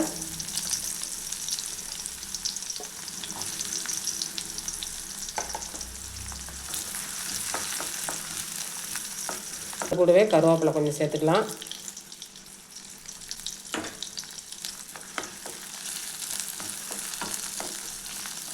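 Steady sizzling of fennel seeds and chopped shallots frying in hot oil, with a sharp louder hiss partway through as the shallots hit the pan, under a voice talking.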